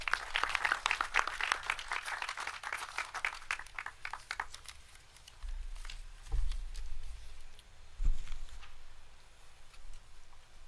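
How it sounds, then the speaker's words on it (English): An audience claps for the Pandit at a community gathering, a burst of scattered hand claps that is strongest at first and thins out into sparse claps with low handling bumps. "Let's give our Pandit a round of applause."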